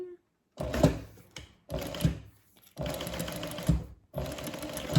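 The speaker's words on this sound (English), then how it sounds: "We're just going to flip that up and do a top stitch right across there." Sewing machine running in four bursts, top stitching across a zip bag, with brief pauses between runs; close and steady, no talking.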